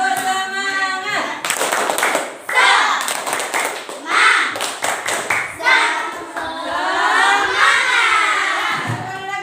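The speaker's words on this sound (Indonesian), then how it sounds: "Tepuk semangat dulu." A classroom of schoolchildren at SDN Gapurana IV in Talango performs the tepuk semangat clapping routine, with loud grouped bursts of hand claps and shouted chanting. An adult voice speaks briefly before the class joins in.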